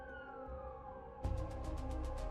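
Ambulance siren on the way to Flushing Hospital during an emergency, a steady wailing tone that jumps louder midway into a pulsing, rapidly cycling yelp with a deep engine rumble beneath.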